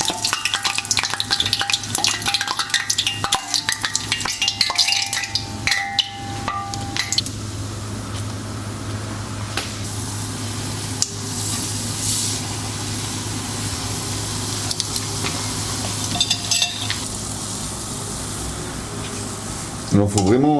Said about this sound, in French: Mon beignet il gonfle dans l'huile très chaude.